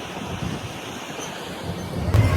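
Wind blowing across the open grounds of a carnival on a cloudy day, a steady rushing, buffeting roar on the microphone that swells louder toward the end.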